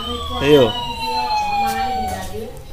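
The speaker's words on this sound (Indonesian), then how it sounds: "Barusan suara sirene polisi nih" A toy mini scooter's police siren wails in rising and falling electronic tones while a voice speaks briefly over it.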